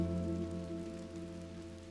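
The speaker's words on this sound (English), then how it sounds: "couldn't have picked a better time for it to rain if you ask me" Steady rain falls in a continuous, even hiss, with a soft low hum running underneath the whole time and no voices.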